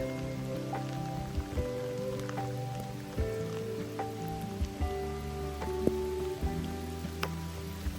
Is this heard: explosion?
no